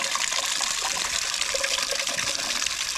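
Clean water gushes steadily through an Olds Rocket 350 engine block that had a failed freeze plug, a loud continuous splashing rush with no talk.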